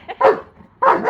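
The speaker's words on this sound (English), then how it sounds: "Why are you barking at the Hoover?" Barney the dog lets out two sharp, loud barks close by, aimed at a Hoover vacuum cleaner, with a short quiet gap between them.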